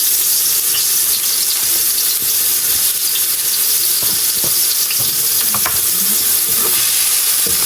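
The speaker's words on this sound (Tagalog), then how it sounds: "nagpainit na ako ng mantika at magigisa na po tayo ng" Onions sizzle and crackle in hot cooking oil in a pan, a loud, dense, continuous frying hiss close up with scattered small pops and no talking.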